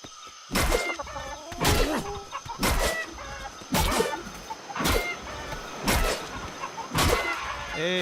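Alpha chicken in the survival game Atlas clucking in a loud, repeated series of sharp squawks, about seven bursts evenly spaced over several seconds, with a steady background hum and no talking.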